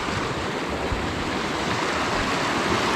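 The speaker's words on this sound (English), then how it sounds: "Don't know if you can hear me over the water." Mountain stream rushing beside a wilderness campsite on the way to Oval Peak, a loud, steady broadband wash of flowing water filling the whole moment, close by and unbroken.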